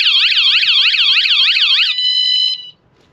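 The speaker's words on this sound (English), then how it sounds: "Now it's gone into a full alarm." A Vanguard campervan security alarm blares a loud, fast warbling electronic siren that switches to a steady tone and then cuts off abruptly.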